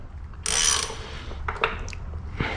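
Ratchet wrench tightening screws on the engine casing of a Honda NSR, with a sharp ratcheting burst near the start followed by a few shorter clicks and turns, close up.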